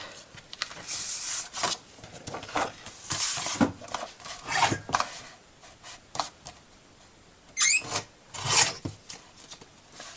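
Scissors or a blade trimming excess paper for a spring-event scrapbooking album, heard as soft rasping snips and rubbing strokes in irregular bursts, close and fairly quiet, with a couple of sharper crisp cuts near the end and no talk.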